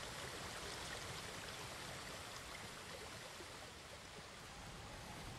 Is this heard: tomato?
no